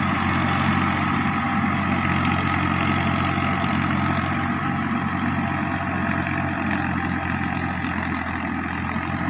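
Farmtrac 45 Powermaxx tractor, a 50 hp model, runs steadily in a paddy field with its diesel engine loaded, giving a constant low rumble throughout with no talk.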